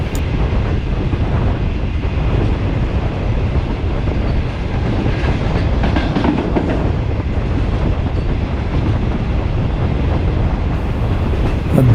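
The Shalimar Express, running from Karachi to Multan at about 70, rumbles loudly and continuously from on board, with steady wheel clatter and some wind buffeting throughout.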